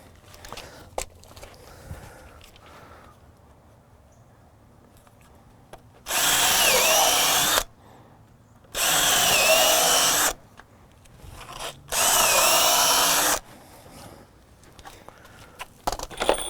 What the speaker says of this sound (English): take my first screw and sink that one in so the rest of them won't move